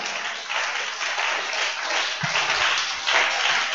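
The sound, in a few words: congregation clapping in church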